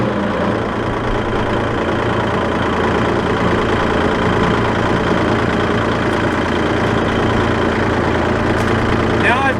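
Tractor engine idling with a steady low rumble while a brush hog's PTO winds down, continuous and close throughout, with a faint rattle near the end.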